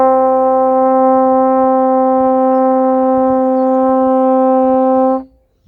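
A saxophone holds a single high concert C for about five seconds, a steady, bright sustained tone that cuts off cleanly at the end.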